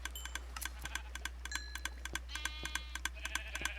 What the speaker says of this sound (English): The only way this machine will work is if there's enough sheep to actually make it work.